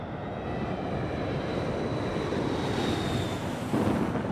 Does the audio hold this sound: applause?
no